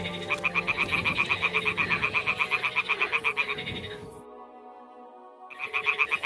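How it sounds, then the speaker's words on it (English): Toads croaking at a nest in the video game Kingdom Come: Deliverance 2, a dense, rapid rhythmic chorus of croaks that runs steadily for about four seconds, drops away briefly, then resumes loudly near the end. "toads are croaking here, there's a nest."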